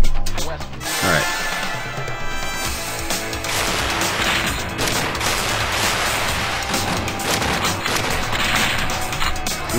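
Grenade launcher fire and blasts in the 2D shooter Strike Force Heroes 3, loud rapid bursts of gunfire and booms piling up continuously, with a player talking over the action.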